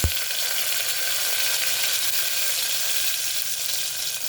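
Curry leaves sizzle and crackle in hot oil as a sambar tempering is made, a steady, close hiss of frying that carries evenly from start to finish with no voices.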